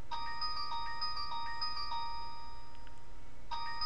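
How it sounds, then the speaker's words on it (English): A phone ringtone plays a repeating electronic melody of clear tonal notes, fairly quiet over a low steady hum, pausing briefly before starting again. "there goes my phone"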